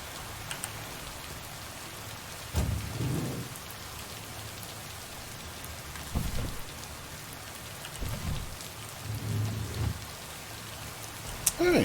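Steady rainfall in a video game town, a constant hiss of drops on surfaces with several low thunder rumbles rolling in at intervals, moderately quiet throughout.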